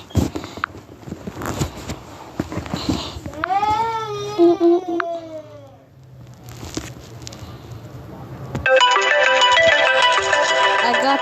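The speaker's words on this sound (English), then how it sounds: "ringtones." Samsung Galaxy A12 phone ringtones: a sequence of electronic tones, with a warbling, cry-like melodic sweep in the middle and a bright, dense chiming tune near the end, loud and close.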